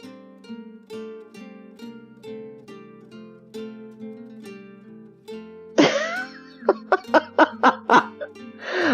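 Several sharp, rapid coughs burst out right after a stretch of laughter-like voiced sounds, the coughing fit loud and close, ending the clip in a choppy, gasping rhythm.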